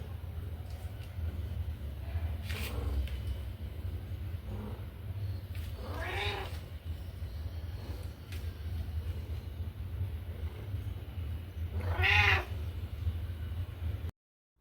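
Hoarse cat meows, several rough, strained cries spaced apart over steady low background noise, the clearest near the end.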